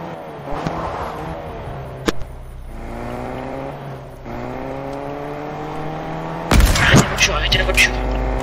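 Car driving in the video game Fortnite, a steady engine drone with rising harmonic whine through most of the stretch, a sharp bang near the start and a louder burst of crashes toward the end, with voices talking over it.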